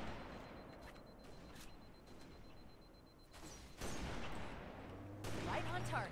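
Sniper rifle shots ring out in the video game Halo, played on PC. Sharp bursts of gunfire cut through a steady wash of game sound.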